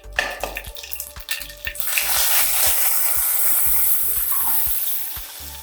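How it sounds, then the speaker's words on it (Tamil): Urad dal and cumin seeds tempering in hot oil, opening with a few clinks and taps, then settling into a loud, continuous sizzle and crackle close up. "உளுத்தம்பருப்பு, சீரகம் தாளிக்கிறதுக்கு போட்டிருக்கேன்."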